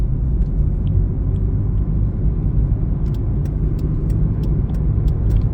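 Supercharged engine of a Lotus Emira running steadily, a constant low rumble heard up close, with faint clicking ticks appearing in the second half.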